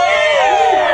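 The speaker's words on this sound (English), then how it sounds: "The crowd cheers." A crowd cheers and yells together in a dense, loud, sustained roar for about a second, with voices blending into a single burst of excitement.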